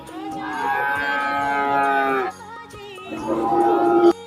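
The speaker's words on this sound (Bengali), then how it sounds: "ছোট সাইজের একটা ষাঁড় বাছুর দেখেন" A small Friesian bull calf at a livestock market gives a long, close, loud moo, pauses, then lets out a second shorter moo.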